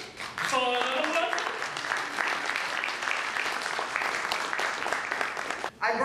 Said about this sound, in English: I'm going to call Deputy Roxborough president, Aurelia Green, for a round of applause.